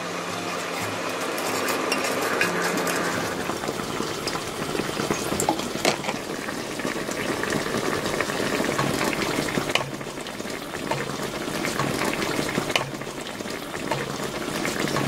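Braising sauce with mackerel, onion and garlic boils steadily in a pan, a dense continuous bubbling and simmering sizzle close by, with faint occasional clinks of a utensil stirring.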